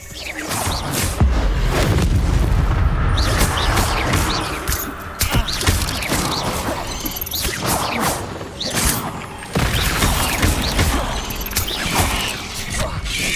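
A fire spell cast in Hogwarts Legacy, a loud dense burst of crackling, whooshing game effects with thuds and clanks layered over busy background sound throughout.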